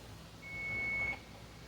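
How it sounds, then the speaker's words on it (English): A kitchen timer goes off beside a 60-quart stainless steel tamale steamer pot used for water bath canning, giving one steady high electronic tone of about three quarters of a second over quiet room noise. "my timer's going off"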